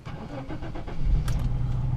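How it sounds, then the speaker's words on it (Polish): A car engine is cranked by its starter in a few short rhythmic turns, then catches and settles into a steady idle close by, with no talking. "Auto odpaliło, chociaż nie zawsze odpala, jak należy."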